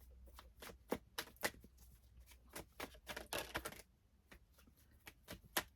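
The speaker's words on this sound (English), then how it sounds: "Let me just give them one more good shuffle" Tarot cards being shuffled by hand, a run of quick crisp riffling bursts with brief pauses between, close and fairly quiet, with no voices.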